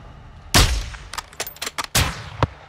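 Sniper rifle fire in the video game Call of Duty: Modern Warfare II, with two loud, sharp shots about 1.4 seconds apart. Several smaller impacts and clanks sound between and after them.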